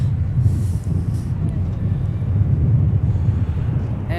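An airliner starts its takeoff roll at Minneapolis–St. Paul airport, a steady low rumble of jet engines building under gusty wind buffeting the microphone, heard from a distance and unbroken throughout.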